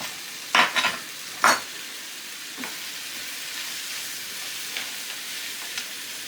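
Food with sage cooks down in a pan with a steady, even sizzle; a few quick utensil clinks and stirs come early, then the frying hiss carries on alone.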